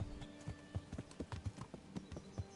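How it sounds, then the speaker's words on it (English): Horse hooves clip-clop in the medieval role-playing game Kingdom Come: Deliverance, a quick, steady trotting rhythm of soft, close thuds with no talk over it. "Yeah, my horse is stuck"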